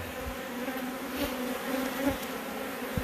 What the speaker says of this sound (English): Western New York honeybees.